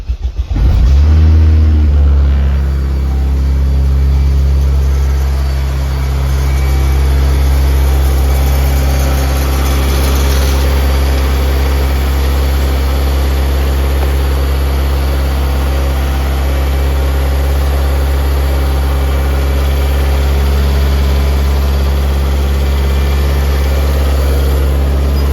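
A Honda K20Z1 engine swapped into a Mitsubishi Eclipse cranks briefly and catches on its first start, then settles into a steady, loud idle with a low, even drone that holds for the rest of the span.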